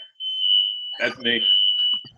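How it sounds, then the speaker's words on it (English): A smoke alarm set off by an oven during baking gives a steady, piercing high beep that runs almost unbroken through the clip, with people talking over it partway through. "No, that was the fire alarm."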